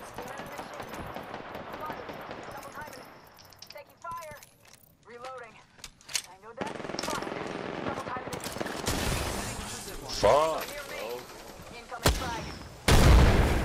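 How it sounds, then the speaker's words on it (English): Rapid gunfire from a sci-fi shooter's Alternator and Triple Take weapons comes in bursts and sharp single shots, close and loud, mixed with shield and impact effects while a player swears and talks over the action. "Opening fire on the enemy."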